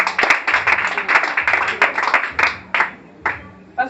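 A church congregation claps steadily and loudly for the Lord, a dense close burst of applause that thins out into a few last scattered claps.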